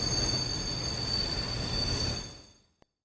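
A train brakes to a stop with a loud metallic squeal and rumbling roar that fades out, followed by a brief faint click, in an animated horror story setting.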